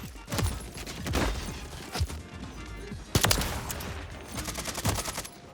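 Rapid bursts of gunfire and explosive impacts in an online shooter video game match, with dense overlapping shots and a louder volley midway, sustained throughout with no talking.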